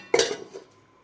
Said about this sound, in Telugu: ఇప్పుడు మూత పెట్టుకుంటున్నా